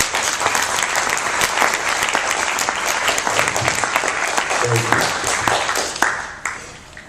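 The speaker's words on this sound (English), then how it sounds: "I'd like to give him a big round of applause, Mr. DeWitt Buckingham." An audience applauds steadily throughout, dense clapping from a sizable crowd that tapers off near the end.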